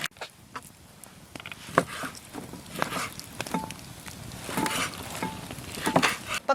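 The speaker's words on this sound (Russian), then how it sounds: "Сейчас мне нужно нарезать мясо и отправить его на сковороду." Small pieces of meat fry in a pan at a riverside camp, with a soft continuous sizzle broken by scattered sharp pops and stirring clatters that grow louder toward the end.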